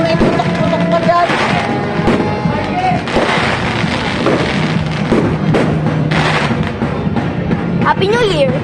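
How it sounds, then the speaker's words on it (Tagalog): New Year fireworks and firecrackers bursting in loud, dense, overlapping volleys, with cheering and talking voices mixed throughout. "Oh, may putok-putok pa dyan."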